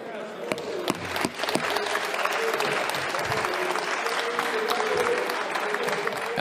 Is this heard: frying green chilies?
no